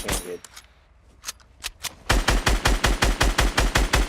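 Fortnite gunfire sprays out in a rapid, loud, even string of shots, with a few scattered single shots before the sustained burst.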